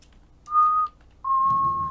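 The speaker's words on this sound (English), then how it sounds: "Oh jeez, loud whistling." Two loud, clear whistled notes close by, a short one followed by a longer, slightly lower one.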